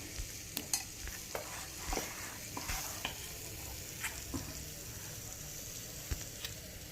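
Malpua batter of maida and suji fries in hot oil in a pan, a steady sizzle punctuated by sharp clicks and scrapes of stirring, close and without talk.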